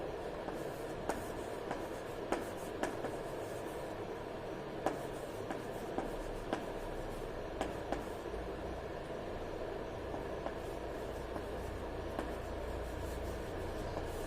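Chalk or marker scratches across a board in short strokes and taps, a steady rhythmic writing sound heard alone in a quiet room.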